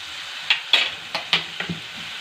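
Vegetable noodles being stirred in a pan after soy sauce, vinegar and chili sauce go in, giving a series of short scraping stirs over a light sizzle with no talking.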